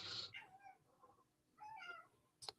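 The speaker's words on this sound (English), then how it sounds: "Oh my god, my cat is freaking out." A house cat yowls in agitation with two drawn-out meows, clear and fairly close, followed by a short sharp burst at the end.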